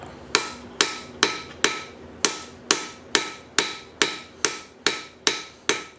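A ball peen hammer strikes hot metal on an anvil at a blacksmith's forge, fourteen sharp ringing blows at an even rhythm, each close and loud with a brief metallic decay. No voices.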